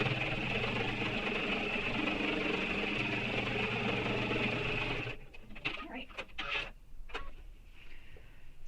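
A sewing machine runs in a fast, steady whirr for about five seconds while top stitching a backpack strap, then stops, leaving fabric handling and soft clicks.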